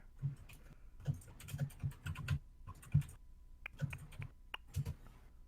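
Fast, uneven bursts of clicking keystrokes on a computer keyboard, quiet and close, with short pauses between runs and no voices.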